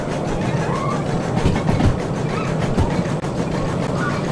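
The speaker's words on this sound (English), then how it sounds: "So you really gotta listen for those choofs and listen for the rhythm of the engine." Steam locomotive in the Derail Valley simulator chugging steadily along, a dense low rumble with repeated chuffs and clattering rail noise, continuous and fairly loud with no talk.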